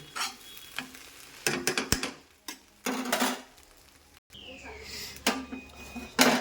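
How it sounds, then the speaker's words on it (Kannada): Bread frying in a pan while being stirred, a soft sizzle broken by several short scraping and clinking strokes with quiet gaps between them. "ಈ ಬ್ರೆಡ್ಡು ಸ್ವಲ್ಪ ಕ್ರಂಚಿ ಕ್ರಂಚಿಯಾಗಿ ಆಗಬೇಕು ಅಲ್ಲಿ ತನಕ ಒಂದು ಎರಡರಿಂದ ಮೂರು ನಿಮಿಷದಲ್ಲಿ ಇದನ್ನು ಫ್ರೈ ಮಾಡ್ತಾ ಇರಿ"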